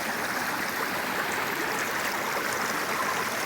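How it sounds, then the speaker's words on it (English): The Rattle River flows steadily outdoors along a hiking trail, a continuous broad rushing wash of water that stays even and fairly loud throughout with no voices. "This beautiful water source. I think this is the Rattle River."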